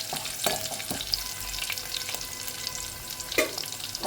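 Shredded cabbage and green chillies being sautéed in a pan, with a continuous close sizzle and a few sharp spatula scrapes and taps, no one speaking.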